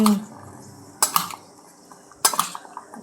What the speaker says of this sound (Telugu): మొత్తాన్ని అంతా కలిపేటట్టు చూసుకోవాలి మొత్తం అన్ని అన్నీ కలవాలి